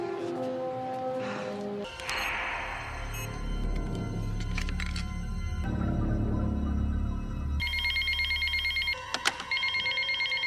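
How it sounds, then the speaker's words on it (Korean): A telephone rings in a tense TV drama scene, with bursts of electronic ringing heard among other sounds and music, followed by a loud, clear stretch of repeated ring tones near the end. "다시 한번 모독의 전화가 울리고"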